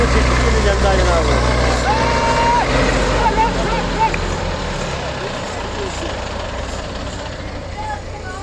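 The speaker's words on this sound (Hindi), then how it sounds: "ट्रैक्टर" A Rusi 510 and a Ford 6610 tractor run their engines in a power-show contest, producing a heavy, continuous low rumble with people talking over it. The engine noise eases somewhat in the second half.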